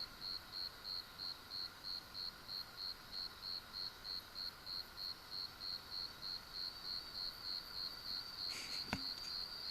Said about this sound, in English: Just a few bugs and that's it.